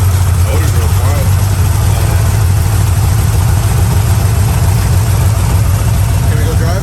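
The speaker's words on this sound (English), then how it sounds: "Sounds good right there. Motor's real quiet." A 1981 Chevrolet C-10 pickup truck idles steadily and loudly up close, with a constant low rumble and no change in pitch throughout.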